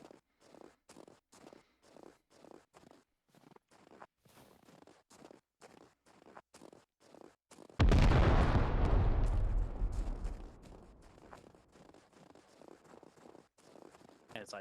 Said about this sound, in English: Single large explosion to our east, approximately 300 meters.